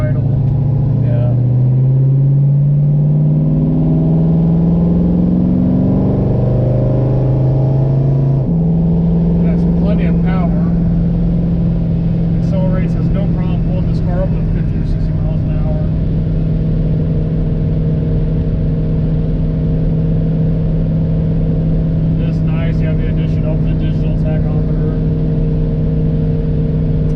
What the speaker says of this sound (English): the 289 just purrs and idle